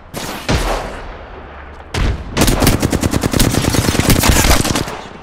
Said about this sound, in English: Taking fire. Opening fire.